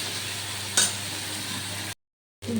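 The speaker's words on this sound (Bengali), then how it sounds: "এবার একটু অল্প নুন আর হলুদ দিয়ে পটলটাকে ভালো করে মশলার সঙ্গে কষে নেব।" Pointed gourd is sautéed with salt, turmeric and spices in a pan, giving a soft steady sizzle with one sharp utensil scrape, then a short silent gap before the sizzle resumes.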